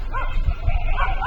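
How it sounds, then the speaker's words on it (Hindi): Several dogs and small puppies bark and yip at a newly arrived dog outdoors, with repeated overlapping yaps over a steady low rumble of background noise. "ये नया कुत्ता आया है उसकी वजह से उसके पीछे पड़े हैं ये लोग, छोटे छोटे पिल्ले।"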